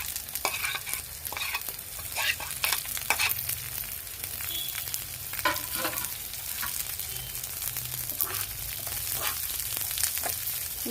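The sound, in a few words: stirring deep-fried corn with fried onions and green chillies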